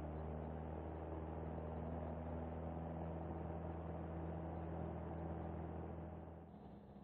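A small single-engine aircraft drones steadily at full power while accelerating down the runway for takeoff, a loud constant engine hum that tapers slightly at the end.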